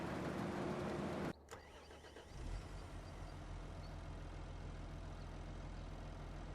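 A tractor engine in Farming Simulator 25 cranks over briefly after a sudden cutoff of the previous noise, catches, and settles into a steady low idle that continues to the end, with no talk.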